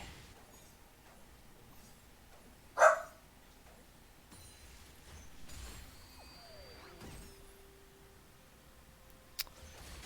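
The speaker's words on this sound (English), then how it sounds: "I'm being distracted by a barking corgi" A corgi lets out a single sharp bark, moderately loud and isolated, with faint distant background noise and a few quiet clicks afterward.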